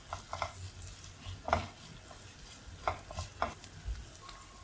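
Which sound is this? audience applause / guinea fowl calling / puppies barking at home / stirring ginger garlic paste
stirring ginger garlic paste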